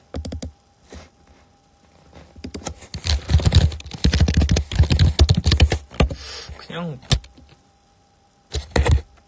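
Computer keyboard typing, rapid bursts of clicky keystrokes during a casual live stream, close and fairly loud, with pauses and a short spoken phrase between flurries.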